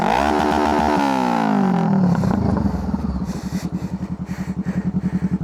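A vehicle engine revs hard with a slightly stuck throttle, loud and close, then drops into a rapid rhythmic chugging idle with clattering.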